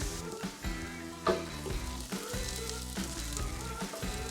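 A pork chop and pineapple fry in reserved bacon fat, giving a constant dense sizzle with a low hum underneath and occasional light taps, and no one speaking.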